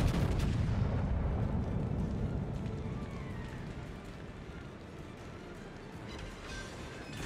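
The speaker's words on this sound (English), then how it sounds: "And Izuma is firing HE at me." Naval gunfire in World of Warships, heavy rumbling booms and rolling low blasts that start loud and ease into a sustained battle din.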